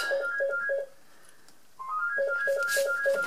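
A telephone rings nearby in repeated electronic bursts of two-tone chirps, pausing briefly midway before ringing again, loud and clear with no talking over it.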